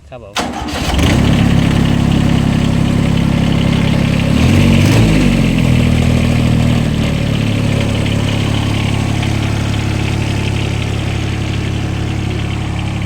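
An engine cranks and catches, then keeps running at a steady idle with a brief rev or stumble partway through, loud and close throughout.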